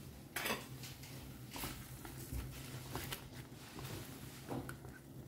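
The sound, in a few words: yogurt being stirred into a pan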